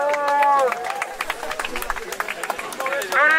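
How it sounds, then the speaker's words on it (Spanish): Studio audience at a freestyle rap battle between Chang and Gonzo claps and cheers, with scattered sharp claps under rising shouts and whoops, lively and close. "Siente el aplauso por esta batalla"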